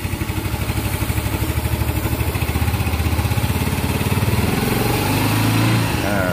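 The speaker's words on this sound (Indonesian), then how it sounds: "Saya hidupin lagi. Nih dari mesinnya udah halus banget." Yamaha Soul GT scooter engine, with a weak fuel pump, running at a smooth idle, a steady close rhythmic putter that rises slightly in pitch toward the end, no talk.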